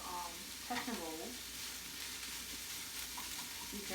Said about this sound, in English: So we're sauteing this away here.